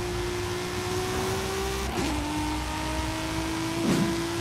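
A modified Audi RS3 in the racing game Forza Horizon 5 holds a steady, buzzing engine drone, broken by two brief dips like quick gear shifts, with no talking over it.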